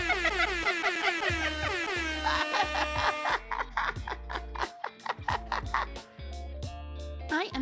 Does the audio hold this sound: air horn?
yes